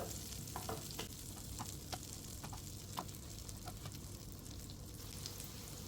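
Pineapple pieces coated in spiced masala fry steadily in a pan with oil, giving a continuous soft sizzle broken by small crackles and pops throughout, with no talking.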